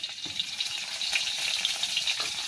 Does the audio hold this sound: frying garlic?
yes